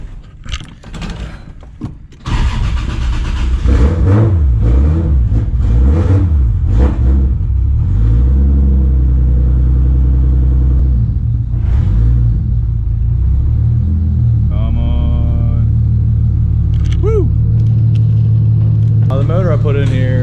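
A Toyota 2JZ engine swapped into a Nissan S14 street car, paired with a 350Z transmission, starts and settles into a loud, steady warm-up rumble close by. Brief voices come before and during the idle.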